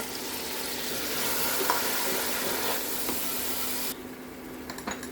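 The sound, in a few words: cut tomatoes sizzling while frying in pan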